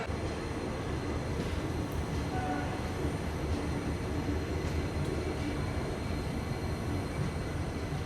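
The Shirdi–Tirupati weekly express train rolls along after leaving Gooty Junction, giving a steady, continuous rumble of wheels and carriages heard from inside the train.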